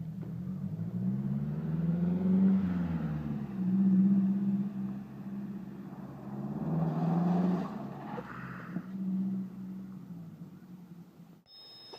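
A car driving along a curved path, a low engine rumble that rises and falls in several swells as it moves, fairly close and steady, fading at the end, with no voices.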